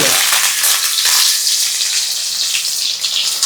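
Curry leaves, crushed garlic and dried chillies frying in hot oil, giving a loud, steady, close sizzle and crackle that holds throughout without speech.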